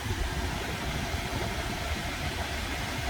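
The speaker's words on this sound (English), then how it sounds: "Okay, the car is running right now." A Hyundai Kona hybrid car sits idling, giving a steady, even engine hum with low rumble that holds at a constant level throughout, with no talking.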